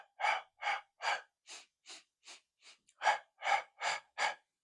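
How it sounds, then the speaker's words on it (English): Slow, paced breathing in through the nose and out through the mouth: eleven even, close breaths in a steady rhythm with short silent gaps between them. "breathing in through your nose and breathing out through your mouth"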